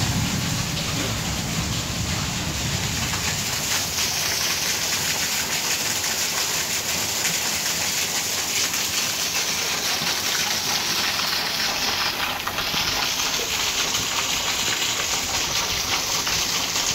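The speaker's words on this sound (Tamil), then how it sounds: "கனமழையாக பெய்து கொண்டிருக்கின்றது" Heavy rain pours down in Trichy, a dense, constant roar of drops hitting surfaces that stays loud and unbroken throughout, with no voices heard.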